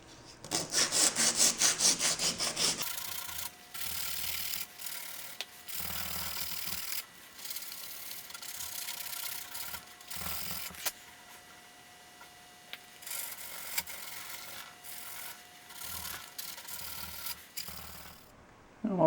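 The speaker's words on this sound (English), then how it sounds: "I'll take some emery cloth and sand this smooth." Emery cloth is rubbed by hand across a metal surface on an International 345 V8 part, giving close, rhythmic rasping strokes with pauses between bursts.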